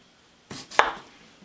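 Knife cutting an unpeeled russet potato into thin slices, heard as two quick, crisp chops close up, the second sharper and louder, alone in a quiet room.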